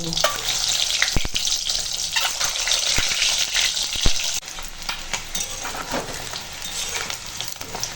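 Pointed gourd pieces coated in turmeric frying in hot oil in a wok, a loud, steady sizzle and crackle with sharp pops and stirring clatter, easing somewhat halfway through.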